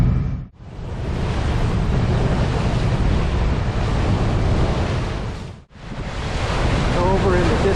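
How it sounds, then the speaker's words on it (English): A ferry crosses Lake Erie, with loud, steady wind buffeting and water rushing past the boat, and the roar briefly drops out twice. "Made it on the ferry, so now it's about a 20-minute ride"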